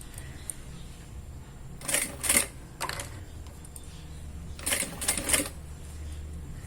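Sewing machine running short stitching bursts while backstitching soft leather-like material on a wallet, two clusters of quick mechanical clatter separated by a quiet pause, close and moderately loud.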